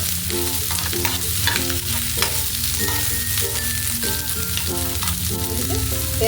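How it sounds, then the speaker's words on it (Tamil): Thinly sliced onion and two green chillies sauté in a pan for dal tadka, a steady loud sizzle broken by repeated stirring scrapes, with music playing underneath. "ஃபஸ்ட்டு நல்லா வதங்கட்டுங்க."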